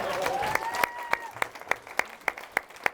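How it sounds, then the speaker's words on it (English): Wedding guests applaud with a crowd of claps and a few louder whoops and cheers rising over it, steady for a few seconds in a reception hall. "Round of applause, please."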